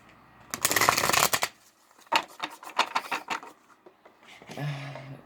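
Lantern Oracle cards get shuffled close by: a loud, dense riffle first, then a looser patter of card slaps and slides, and a faint hum at the very end.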